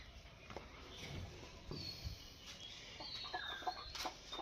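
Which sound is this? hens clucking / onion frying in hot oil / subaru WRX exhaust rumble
hens clucking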